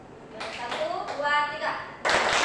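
A group of adults beats out the rhythmic tepuk santiang clapping chant, with short bursts of claps in a counted pattern and chanting voices mixed in, ending in a louder burst of claps.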